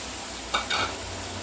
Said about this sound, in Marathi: आता कांदा छान आपल्याला परतून घ्यायचा आहे.